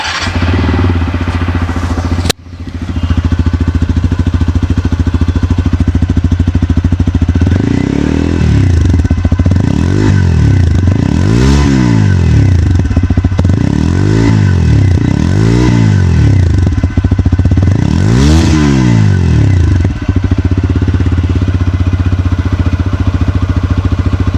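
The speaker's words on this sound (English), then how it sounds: "let me just show you how this Apache RTR 160 sounds like" TVS Apache RTR 160 4V motorcycle, 2026 model, idling steadily nearby, then blipped through several sharp revs that rise and fall in quick succession before settling back to idle, loud and close with no talk.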